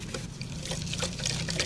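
Epsom salt dissolved in water is poured onto the exposed roots of a blue hibiscus during repotting in a terrace garden, giving a steady, close splashing trickle for under two seconds with no voices.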